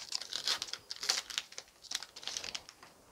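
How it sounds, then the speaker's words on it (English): Crinkly foil packaging of a Hidden Fates trading card pack being snipped and torn open with scissors, a series of quick crackling cuts, close and fairly quiet. "I'm gonna open this one up with scissors."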